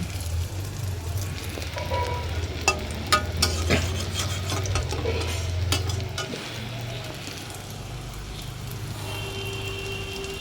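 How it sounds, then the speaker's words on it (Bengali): Bora fritters frying in oil in a pan give a steady crackling sizzle, with scattered sharp pops and stirring clicks over a low hum, continuing close and loud throughout. "তো চলো এখন বড়াগুলো আগে ভেজে নিই"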